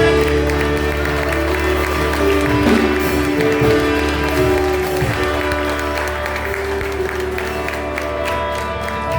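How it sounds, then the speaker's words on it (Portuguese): Congregation applauding during a Friday worship service, broad clapping and crowd noise over lingering music tones, continuous and fairly loud throughout. "Você pode aplaudir a Ele."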